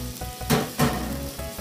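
Onions hitting a few tablespoons of olive oil in a hot pan give a steady sizzle, with two louder bursts of crackle as they land and are tossed, no voices over it.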